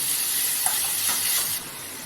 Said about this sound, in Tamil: இஞ்சி பூண்டு பேஸ்ட் அரை அரை ஸ்பூன் சேர்த்து நல்லா வதக்கிங்க